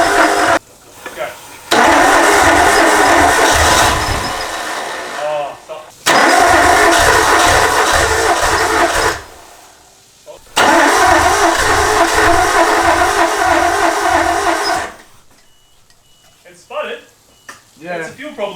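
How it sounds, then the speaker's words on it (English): A Nissan Skyline's starter cranks the engine in three long bursts of several seconds each, loud and rhythmic with short pauses between, as starter fluid is used to try to get it to fire; people talk between attempts. "We're gonna spray that and I'm gonna crank it and we'll see if the engine even fires."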